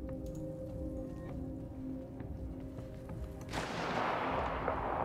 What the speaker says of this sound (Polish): No ciągle słyszę te strzały.